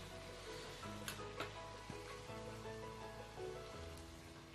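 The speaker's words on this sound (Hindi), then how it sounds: "मटन अच्छा खासा भुन रहा है।" Mutton fries for laal maas in a faint, steady sizzle like light rain, with a few soft ladle knocks and a low hum running beneath it.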